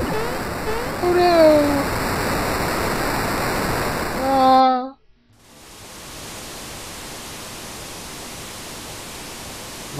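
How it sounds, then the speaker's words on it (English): Rushing flood water in the Super Mario RPG video game: a loud, broad roaring hiss of pouring water that cuts off briefly, then resumes as a steady wash, with excited voices and musical tones over the first half. "Water! Here it comes! Quick, hit the button before we're washed away!"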